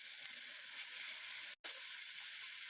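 Tomato frying in a pan with ginger, garlic and mustard paste gives a steady, quiet sizzle with a brief dropout in the middle.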